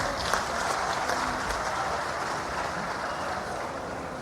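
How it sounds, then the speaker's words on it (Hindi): Loud, dense applause from a crowd welcoming the Chief Minister at a public statue-unveiling event in Hatpipliya, Dewas, sustained steadily throughout without a break. "जोरदार तालियों से आइए स्वागत करें"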